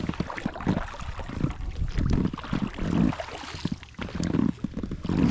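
Water sloshes and splashes in uneven strokes close by as an oar works a new small boat on a trout-fishing trip, with wind buffeting the microphone.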